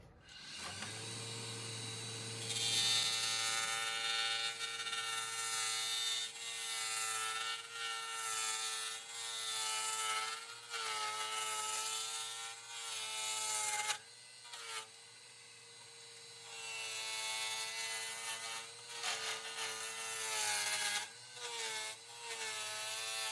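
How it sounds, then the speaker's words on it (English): A steady, continuous machine whine with a high, buzzing tonal hum runs throughout, broken by brief gritty cutting rasps, close and loud with no talking. "Next thing I'm going to do is just bring the entire blank into round"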